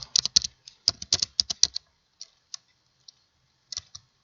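Keys clatter on a computer keyboard as a short message is typed: rapid bursts of close, crisp keystrokes, then a few scattered taps after a pause.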